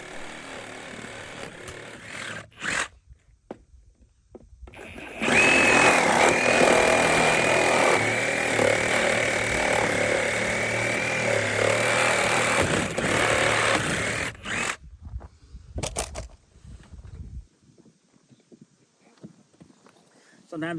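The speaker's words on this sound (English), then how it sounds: "Sometimes it's hard to tell if you're hitting the cement floor or nails, so it's hard on Sawzall blades." A Sawzall reciprocating saw cuts through nails and rotten wooden pole barn posts near a cement floor, a loud steady buzzing drone running for about ten seconds with a faint start and stop, followed by brief clatter and quiet.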